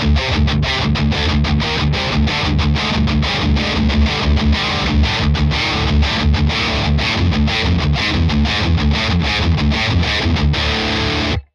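Heavily distorted high-gain electric guitar played through a Hughes & Kettner Black Spirit 200 floor amp, a fast stream of loud, chugging picked notes with a sustained final chord cut off sharply.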